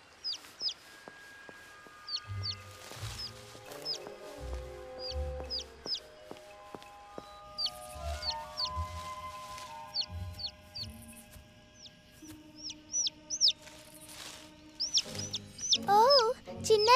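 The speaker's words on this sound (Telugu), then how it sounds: "ఓ చిన్నారి పక్షి పిల్ల." A baby bird in an animated cartoon chirps repeatedly with short, high, rapid peeps that keep coming throughout, alongside low thumps and other cartoon sounds.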